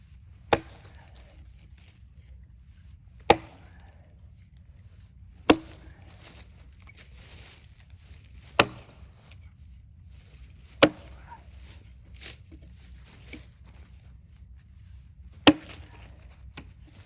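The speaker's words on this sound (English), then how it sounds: "So don't neglect your stationary chopping position." An axe chops wood from a stationary position among stumps in a cordwood challenge, giving six sharp, isolated strikes spaced a few seconds apart, with quiet pauses between blows.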